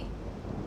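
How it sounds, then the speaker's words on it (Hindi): Thunder rumbling over Mount Kailash, a loud, dense, continuous low roar that fills the whole short moment without a break, heard alone with no voices over it. "कैलाश गरज रहा है महादेव।"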